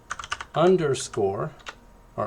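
A computer keyboard typing into a Google Docs document: a few quick, light key clicks at the start, then a voice talking over the rest.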